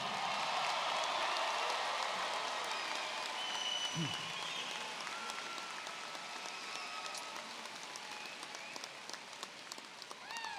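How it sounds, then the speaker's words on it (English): Graduation ceremony audience gives a long, sustained round of applause for graduates, dense even clapping filling the space with faint cheers and whistles scattered through it. "let's give them one more round of applause"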